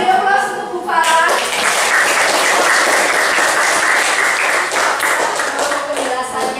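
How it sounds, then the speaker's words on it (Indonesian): Audience of schoolchildren applauding a teacher in a classroom: loud, dense clapping rises after a brief voice and holds steady for several seconds before thinning slightly at the end. "beri aplaus untuk Bu Farah"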